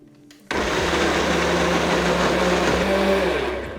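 A blender kicks on abruptly and whirs steadily, pureeing cubes of butternut squash with a loud continuous motor drone and churning grind, easing slightly at the end.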